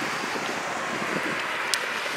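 Strong wind roars and buffets the microphone outdoors at a truck racing event, a loud, continuous rushing noise with no pauses.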